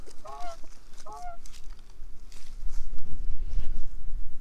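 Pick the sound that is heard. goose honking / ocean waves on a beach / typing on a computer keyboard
goose honking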